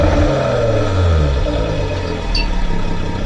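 Jaguar F-Type with standard exhaust and valve closed, a deep steady idle rumble that swells slightly in a brief rev, close and fairly loud, with no talk.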